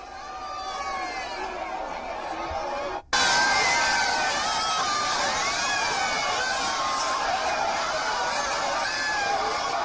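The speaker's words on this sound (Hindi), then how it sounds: "लोग पाकिस्तान हाय हाय के नारे लगा रहे थे" Large crowd gathered at a funeral for a slain police sub-inspector in Kashmir, shouting anti-Pakistan slogans; dense, loud massed voices and cheering fill the whole stretch after a brief break near the start.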